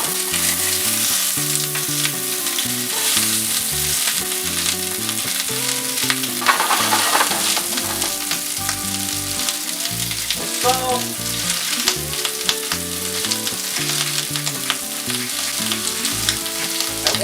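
Onions frying in oil in a pan, with a steady loud sizzle and crackle running throughout, broken by occasional stirring scrapes and no voices.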